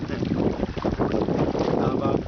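A boat travels across open water on an island-bound expedition, its steady engine and hull noise loud and continuous with strong wind buffeting the microphone throughout.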